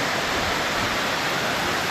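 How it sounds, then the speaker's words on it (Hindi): Manthoka waterfall in Skardu roars as a dense, steady rush of falling water, loud and unbroken throughout, with no voices standing out. "ये देखें यहाँ पानी आ रहा है, आबशारें हैं खूबसूरत"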